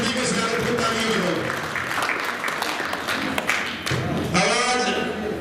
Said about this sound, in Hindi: जोरदार तालियों से इनके स्वागत को, सभी के स्वागत को तालियों में हो।